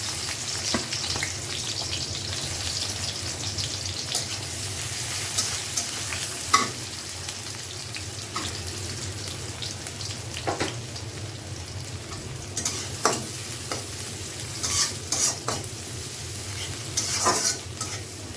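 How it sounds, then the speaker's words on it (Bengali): Vegetable bhaji frying on a gas stove, a constant close sizzle with occasional stirring scrapes and small pops, no talking. "অন্য চুলায় তো ভাজি হচ্ছে"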